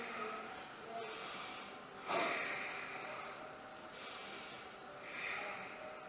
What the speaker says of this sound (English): deep, deep breaths in and out